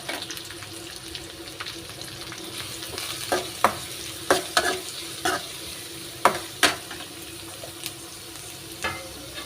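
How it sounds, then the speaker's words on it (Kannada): Onions tossed into a hot pan with curry leaves for a South Indian bassaru, frying with a steady sizzle punctuated by several sharp stirring scrapes and clatters, close and fairly loud with no talking. "ಈಗ ಈರುಳ್ಳಿ ಹಾಕೋಣ."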